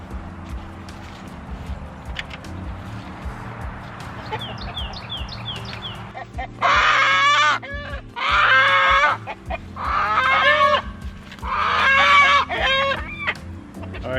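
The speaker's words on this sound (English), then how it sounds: "So this is a total of 9 chickens. We got 8 hens, 1 rooster." A backyard flock of eight hens and one rooster clucks nearby, with a quiet rustling start, then a short burst of calls followed by four loud, rhythmic runs of clucking close to the microphone.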